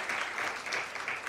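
Steady applause from a workshop audience, a continuous wash of clapping at moderate level lasting the whole moment, with no voices standing out.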